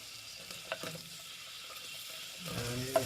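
Diced onions fry in olive oil in a pan, a quiet, steady close sizzle with a few faint clinks and stirring scrapes over it.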